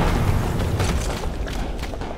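An artillery shell explodes in a video game, a heavy rumbling boom that fills the whole clip with dense, sustained low roar and debris noise.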